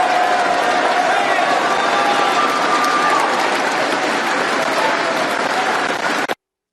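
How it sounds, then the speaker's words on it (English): A political rally crowd breaks into loud, sustained applause, dense clapping at full strength for several seconds before it cuts off abruptly. "You actually shouldn't be clapping that."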